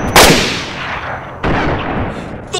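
Two loud, sharp gunshots from the survival video game DayZ, the second about a second after the first, each followed by a long echoing decay, with no talk over them.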